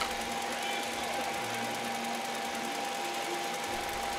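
A car engine idles steadily, a constant mechanical hum with a faint whine, running while coolant levels and leaks are checked during an aftermarket gauge installation.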